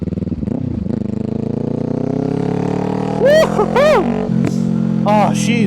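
A 2025 Kawasaki Ninja 500 motorcycle rides through city streets, its engine droning steadily close-up and swelling in pitch midway, with a voice speaking over it.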